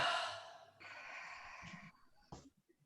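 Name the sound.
deep breath in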